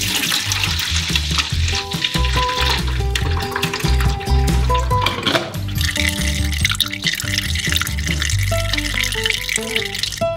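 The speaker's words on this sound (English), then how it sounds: "You can pour through a sieve into a bucket." Fresh orange juice pours through a sieve into a bucket in a continuous, loud, close splashing stream, with tonal ringing in the background.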